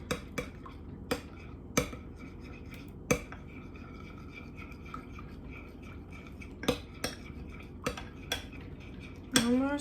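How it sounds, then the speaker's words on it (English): A spoon stirs melting butter in a bowl, clinking against the sides in sharp, scattered taps with quiet gaps between them, close and clear. "I like to just take a spoon and stir it until the rest of the butter"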